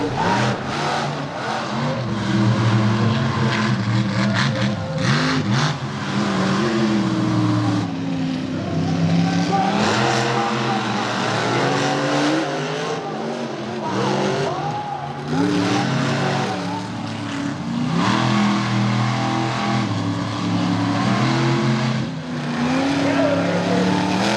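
Monster trucks Bigfoot and Stone Crusher race a rallycross circuit at Charlotte Motor Speedway, engines roaring and revving continuously with skidding tires, loud and close throughout, with a commentator talking over the engine noise.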